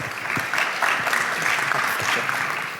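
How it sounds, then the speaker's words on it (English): An audience applauds during a conference opening ceremony, a dense and even wash of clapping that stays loud and steady from start to finish. "Applause."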